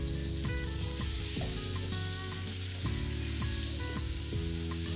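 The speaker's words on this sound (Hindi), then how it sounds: "टमाटर, कद्दू और तमाम मसाला जात की अब एक साथ भुनाई होगी।" Tomato, pumpkin and spices frying together in a pan, a soft continuous sizzle heard faintly under a bed of layered music with sustained tones and regular beats.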